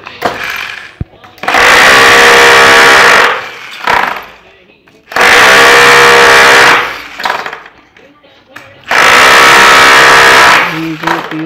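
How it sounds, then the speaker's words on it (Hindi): A power drill bores holes into a metal L-channel for a POP false ceiling, with three loud, close bursts of drilling lasting a few seconds each and separated by short pauses. "एल जो है उसमें छेद किए जा रहे हैं"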